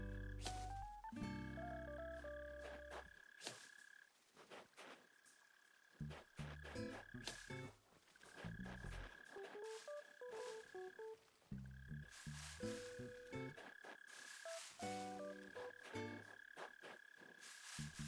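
Frog croaking in the Animal Crossing New Horizons video game, a series of loud, clear tonal croaks with a repeating rhythm over about eighteen seconds, alongside steady ambient game tones and no talking.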